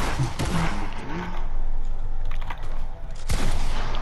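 Dense, sustained gunfire from a shooter video game fills the stretch, with sharp bursts near the start and a loud crack near the end, while voices talk under the shooting.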